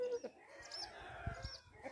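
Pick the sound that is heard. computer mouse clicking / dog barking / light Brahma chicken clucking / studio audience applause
light Brahma chicken clucking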